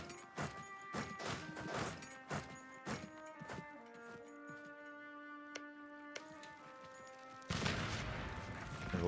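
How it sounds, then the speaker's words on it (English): Naval cannons fire a barrage in Europa Universalis IV, a quick run of distant, muffled thuds in the first few seconds over soft orchestral game music, followed by a swell of broadband noise. "Naval barrage."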